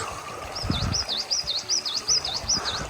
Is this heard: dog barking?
no